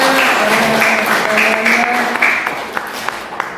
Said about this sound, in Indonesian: Oke, tepuk tangan dulu dong buat Kak Tasya.